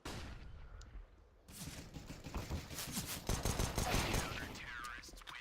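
Pistol fire from a P250 in a Counter-Strike esports match on the Inferno map: a burst of sharp gunshots and in-game action, with commentary running beneath.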